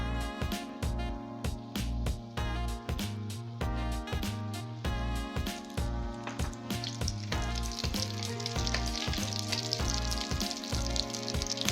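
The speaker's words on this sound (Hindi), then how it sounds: "कढ़ाई में ऑयल गरम करके इनको फ्राई कर लें" Breaded potato and pea rolls, dipped in egg and breadcrumbs, deep fry in hot oil in a kadhai, giving a dense, continuous sizzle with constant crackling and popping bubbles, close and steady.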